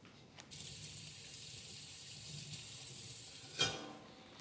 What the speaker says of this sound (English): then I fan out the leaves as I run water over them